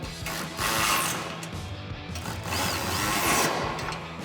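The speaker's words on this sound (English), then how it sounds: "Now we'll come in with our 13mm wrench and a 13mm socket on our ratchet and tighten all of our hardware down." A ratchet with a 13mm socket tightens bumper hardware on a 2021-2026 Ford Bronco, making two bursts of rapid, close metallic clicking separated by a short pause.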